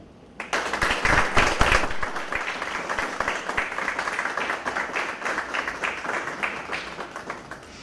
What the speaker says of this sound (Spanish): pido un aplauso de bienvenida para don León David.